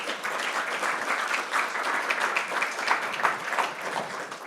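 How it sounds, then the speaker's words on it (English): Steady, moderately loud audience applause at a talk honoring a guest speaker, a continuous wash of clapping with no pause. "Let's give you a round of applause."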